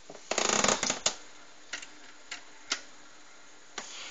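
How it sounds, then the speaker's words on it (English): Famicom Disk System drive loading an inserted floppy disk, giving a dense burst of mechanical clicking and whirring followed by a few sparse, isolated ticks and clunks at close range with no talking. "let's insert the floppy and see what happens."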